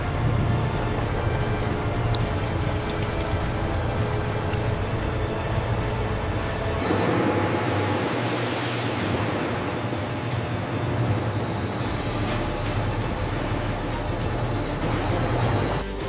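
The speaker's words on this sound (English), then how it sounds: "This powerful centrifuge spins at thousands of RPM, using density alone to separate the liquid gold." Industrial olive oil centrifuge spinning at thousands of RPM in a large olive oil factory, a constant loud mechanical drone with steady humming tones, plus a rising whoosh swelling partway through; no one speaks.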